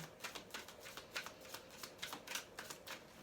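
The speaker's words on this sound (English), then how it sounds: "I pre-shuffled all of these decks, but I like to give them a little bit more of a shuffle" Tarot cards are shuffled in quick, rhythmic riffles, a steady series of soft flutters repeating close by and quietly, with no voices.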